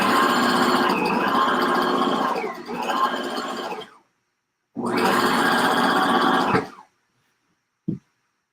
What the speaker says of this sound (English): And then sew the pocket closed.